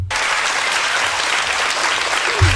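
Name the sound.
studio audience applause on Jerry Springer show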